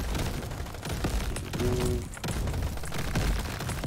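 Turrets fire in the video game Crab Champion as a dense, continuous rattle of rapid gunfire with thuds and mechanical clatter, loud and close throughout.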